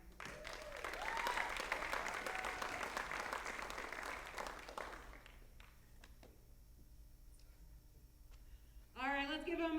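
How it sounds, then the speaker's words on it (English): Enthusiastic applause from the audience at a karate black belt graduation, loud dense clapping for about five seconds that fades to scattered claps before a voice speaks. "let's give them another round of applause"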